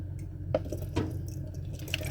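Liquid splashes and drips in a kitchen while hamburger stew is canned, with soft irregular wet splatters over a steady low background hum.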